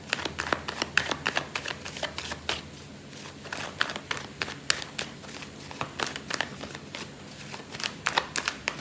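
Tarot cards being shuffled for a draw, close and crisp, with repeated riffling bursts and soft slaps in an uneven rhythm and no voices.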